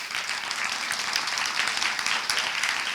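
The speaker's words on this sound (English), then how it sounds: "A round of applause." An audience at a conference closing session claps after a panel, a steady, moderately loud wash of many hands applauding for a few seconds with no talking over it.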